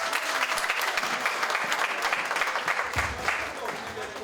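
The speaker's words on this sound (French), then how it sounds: "Docteur Djaouda Sela, le micro vous appartient sous les applaudissements de la salle." A hall audience at an African women's day gathering in Montreal claps steadily in sustained applause welcoming a speaker, with some voices mixed under the clapping.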